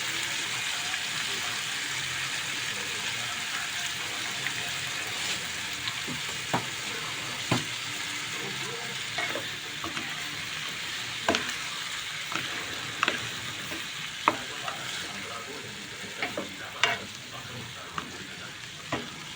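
Broccoli and pork stir-frying in a pan, a steady close sizzle broken by sharp clacks of a utensil stirring and scraping, with no talk.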